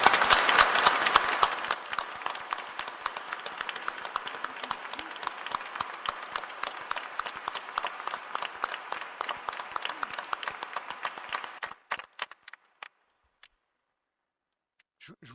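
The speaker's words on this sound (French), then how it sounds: "Je crois qu'on peut applaudir encore plus fort Jean-Marc." A church congregation claps together in sustained, fairly quiet applause that holds steady, then breaks off abruptly into a few last stray claps and silence.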